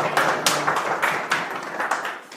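Scattered audience clapping at a Ubuntu conference presentation, a modest group applauding nearby with uneven, sparse claps for a couple of seconds, no talking over it.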